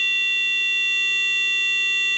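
A PIC16F887 music player emits a steady electronic test tone near 396 Hz, holding unbroken and clear from start to finish with no other sound.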